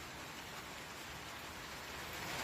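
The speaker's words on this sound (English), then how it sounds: "Are you tired of the rain yet?" Rain falls on a farm on a wet morning, giving a faint, even hiss of drops on surfaces that stays steady and low throughout, with no voices.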